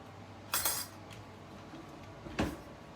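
Dishes and cutlery clink in a home kitchen during washing: two short, bright clatters about two seconds apart, with quiet background in between.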